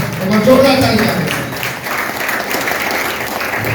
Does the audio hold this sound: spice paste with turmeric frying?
no